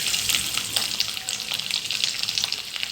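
Coconut pieces fry in hot oil for a chicken dry roast, giving a steady, close, continuous sizzle with crackling pops and occasional stirring, without talk.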